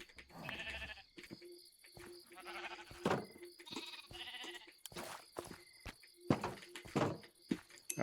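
Sheep in the Minecraft video game bleat repeatedly in short wavering calls, several overlapping bleats at moderate loudness with brief gaps, and no talk.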